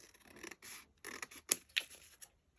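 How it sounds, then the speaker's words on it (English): Scissors cut through printer parchment paper for large heart craft tags, giving several short, close scratchy snips and rasps in an uneven rhythm with quiet pauses between strokes. "We're going to cut this off."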